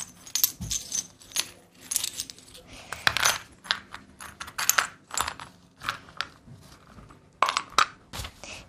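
Light plastic clattering and crinkling as small toy cookies rattle inside their packaging, in irregular shakes and bursts, close and fairly quiet.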